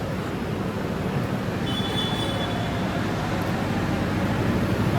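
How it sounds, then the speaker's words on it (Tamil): A train at Chennai Central station produces a steady low rumble with a brief faint squeal of wheels in the middle, heard alone without talk. "இது என்ன ட்ரெயின் எங்கே போகுதுன்னு தெரியல"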